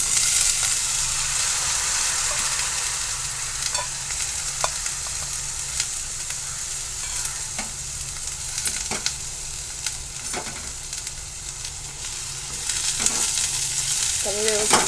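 Hadga (sesbania) pods frying in a pan for a Maharashtrian vegetable dish, with a steady bright sizzle and occasional scraping stirs clicking through it.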